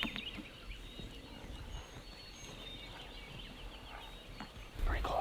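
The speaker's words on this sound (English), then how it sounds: "We got turkeys." Wild turkeys gobble in Texas Hill Country woods, rattling calls sounding at a moderate distance over quiet outdoor ambience, with a thump near the end.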